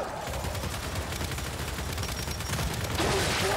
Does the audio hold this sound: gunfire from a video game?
yes